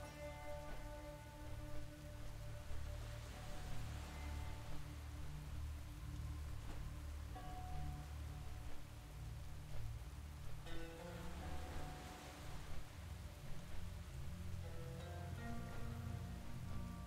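Rain hisses steadily and faintly in World of Warcraft: Battle for Azeroth, with soft musical tones drifting over it.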